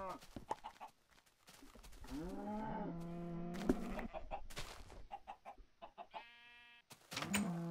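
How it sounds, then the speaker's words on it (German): Minecraft chickens cluck in short, pitched bursts near a garden bed, mixed with other farm-animal calls and brief game noises, some clucks close and clear, others scattered through the scene. "Das läuft auf dem Beet rum, das blöde Huhn."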